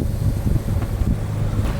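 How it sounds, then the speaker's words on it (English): A sailboat's engine running on the way to the Outer Hebrides, a low steady throb close by under heavy wind buffeting on the microphone. "put the engine on"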